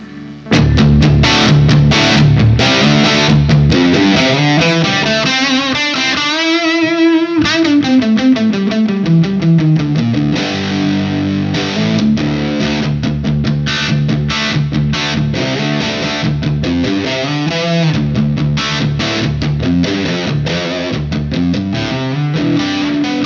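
An electric guitar runs through a Diezel VH2 amp with the gain at full, playing loud, heavily distorted riffs with chugging chords and sustained notes for over twenty seconds, close and continuous with no talk.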